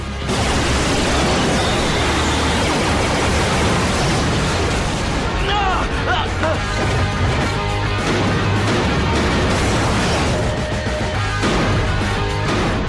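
Loud, dense burst of crashing, booming laser cannon blasts from a Power Rangers Dino Thunder Megazord, with mechanical clanks, continuous and chaotic throughout, with a voice briefly heard amid the din.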